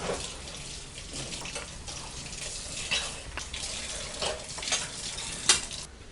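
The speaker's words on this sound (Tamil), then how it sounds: "நான் வந்து கொஞ்சமாக ஆயில் ஊற்றி தான் ஃப்ரை பண்ணுறேன்." Mutton kola balls of keema fry in a little oil, giving a continuous close sizzle and bubbling hiss. Scattered sharper crackles and pops rise through it, with one louder burst near the end and no talk.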